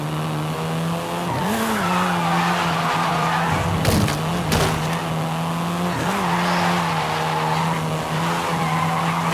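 Volkswagen Golf R, seventh generation, driven hard in Forza Horizon 5, with a steady, close engine drone that dips and climbs through gear changes and bursts of tire squeal and skidding, no voices over it.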